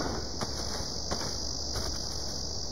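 Cicadas buzz in a cartoon insect scene, a steady, dense, high-pitched drone that holds at even loudness throughout with no talking over it.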